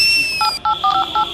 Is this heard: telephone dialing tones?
yes